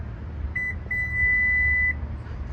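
A Subaru sounds one steady electronic beep to confirm the power tailgate memory height. A short chirp comes first, then after a brief gap a sustained tone of about a second, clear against quiet background hum.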